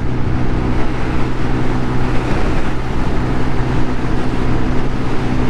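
A Lexmoto Titan 125cc scooter runs flat out during a top speed test, its engine drone buried in heavy, constant wind roar and road rush, loud and unbroken throughout.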